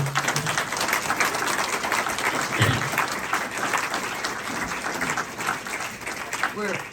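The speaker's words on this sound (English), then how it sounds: "another round of applause for Joy" An audience applauds Joy Metzler, a former Air Force officer, with steady dense clapping filling the room for about seven seconds, a voice briefly heard over it.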